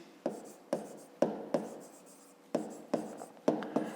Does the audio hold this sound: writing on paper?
yes